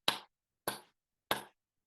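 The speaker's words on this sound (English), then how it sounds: "And 3 claps, 1, 2, 3." Three crisp hand claps, evenly spaced about 0.6 seconds apart, close and sharp with short decays and silence between, from webinar participants in a Hawaiian blessing.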